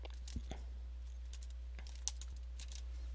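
Soft, quiet clicks of typing on a computer keyboard, a short irregular run of keystrokes heard alone.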